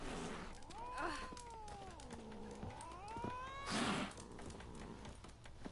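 A cat meowing in a video game, with drawn-out, wavering meows and caterwaul-like cries rising and falling over a murmur of background game ambience, fairly quiet.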